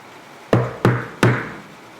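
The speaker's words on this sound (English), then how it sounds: "there's a knock at my door" Three sharp knocks on a door, evenly spaced about a third of a second apart, each with a short resonant thud, close and clear against a quiet room.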